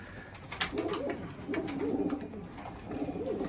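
A pigeon in a loft on a rainy day coos in repeated low, throaty phrases, three or four rolling calls spaced through the clip, close by, with light ambient noise and faint clicks.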